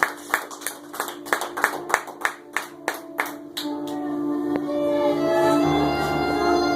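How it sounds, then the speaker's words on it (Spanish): A church congregation claps at an evangelical Spanish-language service, a run of loud, evenly spaced hand claps that then blurs into sustained applause and cheering as music swells underneath. "Dale un fuerte aplauso al Señor, aleluya."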